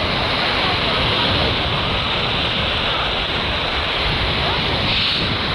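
Steady roar of sea surf on a beach at Anapa, broad and continuous rushing noise with wind buffeting the microphone, loud and close with no talk.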